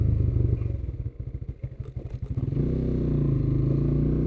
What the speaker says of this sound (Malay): Ni pun motor ni baru overhaul sebenarnya.